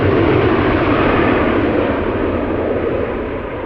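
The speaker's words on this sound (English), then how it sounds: "Embraer 175 going to Stavanger flight 1199." An Embraer 175 regional jet departing Amsterdam Schiphol for Stavanger gives a loud, steady broadband engine roar, close and unbroken, easing slightly toward the end with no voices.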